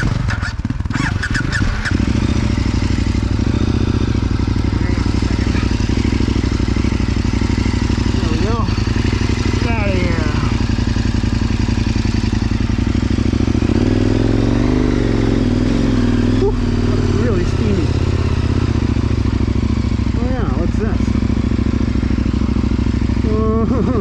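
A KTM 1090 adventure motorcycle engine runs offroad during a rolling start, loud and close throughout, with rising revs, clattering and a rider's voice talking over it.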